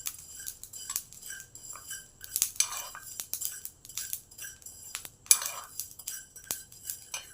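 Fried green chillies for a spicy mirchi pickle are scooped onto plates with metal utensils, giving scattered light clinks and scrapes, close and fairly quiet, with no talking.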